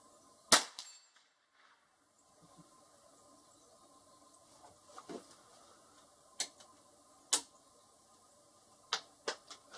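A Stevens Little Scout 14 1/2 falling block rifle in .22LR fires one sharp, close crack, followed by several fainter metallic clicks and taps from the action, spaced irregularly in a quiet outdoor setting.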